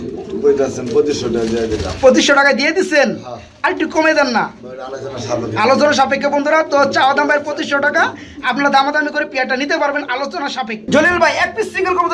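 American Andalusian fancy pigeons in red and indigo coo and call close by, their soft throaty warbles repeating throughout while people talk over them.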